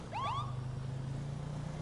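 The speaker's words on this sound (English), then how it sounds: "if you ever hear sirens go by blip blip like that" Two quick rising siren whoops sound close together, a short police-style blip in a roleplay video game, over a steady low engine hum that continues afterward.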